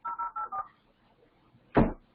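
Touch-tone telephone keypad dialing, four short evenly spaced beeps in quick succession, followed after a pause by a louder brief click or clunk; no talking.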